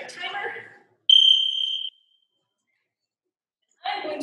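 A workout interval timer gives a single steady electronic beep lasting under a second, clear and close, between stretches of a coach speaking during a live home exercise class.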